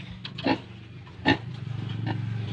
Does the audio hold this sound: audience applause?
no